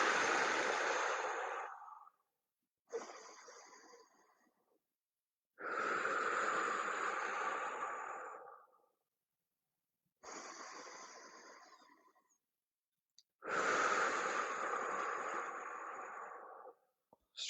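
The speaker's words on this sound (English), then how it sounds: "breathing in really tall through your nose, out through your mouth as you ground your feet" Slow, deliberate breaths during a warm-up routine, drawn in through the nose and let out through the mouth, five long breath sounds separated by short pauses, close and fairly loud with no talking.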